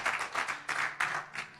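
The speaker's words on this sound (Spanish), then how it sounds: "Vamos a darle un aplauso al Señor." A church congregation claps together in praise, a quick burst of fairly close applause with uneven rhythmic clapping surges.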